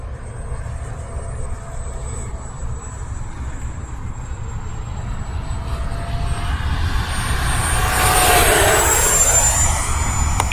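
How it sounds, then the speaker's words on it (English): An E-flite F-16 80mm electric ducted-fan RC model jet flies overhead after its maiden takeoff, a steady whine and rushing roar that grows louder and sweeps past near the end, with no talk. "the F-16 is in the air"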